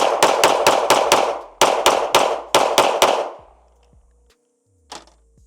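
A Springfield Hellcat Pro Comp pistol fires rapid close-range shots in three quick strings of about five, each crack sharp and loud. Faint metallic clinks follow in the quiet after the firing stops.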